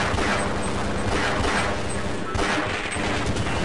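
In the Half-Life video game, a sentry turret gun fires at bugs in a dense, sustained burst of loud, rapid shots that continues without a break.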